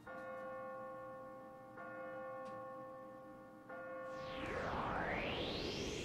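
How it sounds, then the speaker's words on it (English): A bell tolls in Yo-kai Watch 3, struck three times at steady intervals with long ringing overtones, before a rising and falling sweep of game sound effects takes over. "Now, ring the bell."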